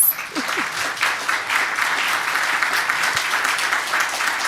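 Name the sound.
audience applause for the panelists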